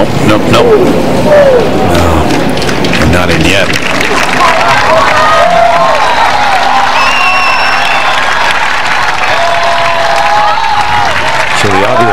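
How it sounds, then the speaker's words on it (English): A partisan U.S. crowd at the Solheim Cup women's golf singles cheers and applauds around the 18th hole, a sustained roar of claps and shouts with a commentator talking over it. "Partisan U.S. crowd sensing a chance for Creamer now."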